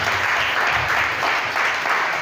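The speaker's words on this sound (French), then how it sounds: "Mais je pense qu'on va applaudir pour ça." Audience applause at a football tournament equipment handover ceremony in Logouale, a dense, steady wash of many hands clapping together, loud and unbroken for the full length with no talking.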